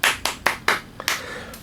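Several sharp hand claps in an irregular burst, about six in all, close and fairly loud, with the last few softer and spaced apart.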